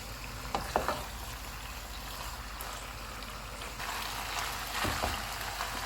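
Pasta simmers in milk over a full flame, a soft, low bubbling and faint sizzle with a few light clinks of a utensil early on and near the end.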